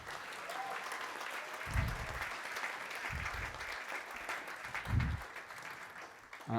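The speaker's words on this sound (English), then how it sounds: "Give Bunny a round of applause" An audience at a civil rights champions awards event applauds steadily throughout, with a few low thumps rising out of the continuous clapping.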